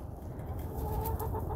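Chickens clucking softly while being fed, a few quick, quiet clucks over a low rumbling background, brief and close.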